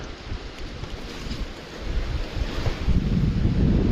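Gusty wind buffeting the microphone while trout fishing with mop flies, a low rumbling roar that swells louder in the second half, with no talking.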